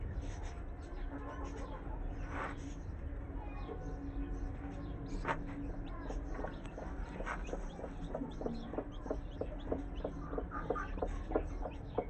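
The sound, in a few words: hen and newly hatched chicks clucking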